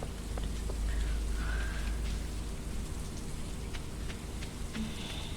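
Steady rain falls over a farm in the video game Stardew Valley, a soft continuous hiss with faint scattered game chimes, no voices.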